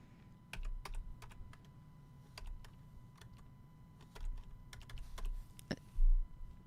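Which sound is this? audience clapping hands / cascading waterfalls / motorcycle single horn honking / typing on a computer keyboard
typing on a computer keyboard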